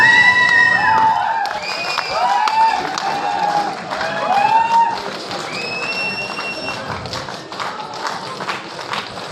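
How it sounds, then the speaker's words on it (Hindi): Audience at a direct selling meeting in an auditorium claps and cheers in a steady, sustained wash of applause. A host's amplified voice rises over the crowd now and then. "साथियों, जबरदस्त तालियां पीछे से भी सभी लीडर्स।"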